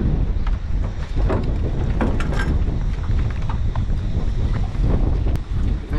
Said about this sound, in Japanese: 北東吹いてますね、風がちょっと。